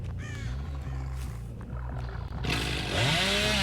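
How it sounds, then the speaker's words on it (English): A chainsaw revs in the Dead by Daylight horror game, a droning engine tone that swells loud and harsh in the final second, with eerie in-game ambience beneath and no talk. "I rev up the chainsaw"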